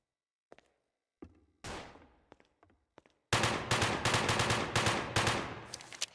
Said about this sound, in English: Let's go with the machine gun. Looks like an AK.